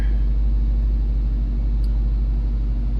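A Dodge Hellcat sits idling, its engine giving a steady, loud low rumble that holds without change for the whole stretch, with no talk over it.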